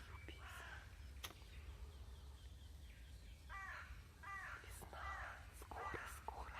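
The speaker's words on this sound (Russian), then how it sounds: "И вороны тоже здесь у нас живут" Crows caw outdoors in spring, several harsh calls in a loose series from mid-distance over a low, steady background rumble.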